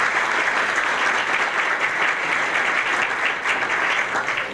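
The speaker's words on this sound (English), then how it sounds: "Big round of applause." A chamber of commerce audience at a mayors' event gives loud, sustained applause, a dense crowd of clapping hands that stays steady for several seconds with no talking over it.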